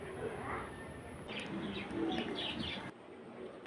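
Pigeons cooing inside a pigeon house in the late afternoon, soft low repeated coos with a few chirps over a steady background hiss, nearby and moderately loud.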